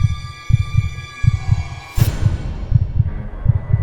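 A heartbeat sound effect in an animated horror story thumps in steady double beats, loud and close, with a sharp whoosh swelling in midway and a faint sustained tone behind.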